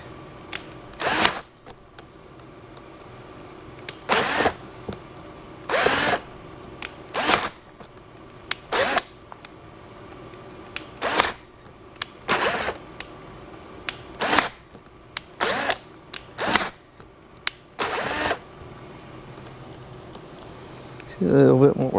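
A power drill drills through a door during replacement in short bursts, about a dozen quick whirring spurts separated by brief pauses, fairly close.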